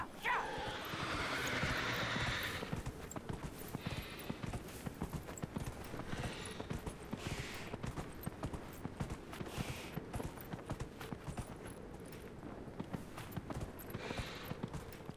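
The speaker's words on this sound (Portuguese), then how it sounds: "Vamos de cavalinho ainda para ser mais rápido." Hooves beat a steady, quick rhythm as a horse gallops across desert sand in Dragon Age Inquisition, its clip-clop constant and fairly soft throughout with no talking.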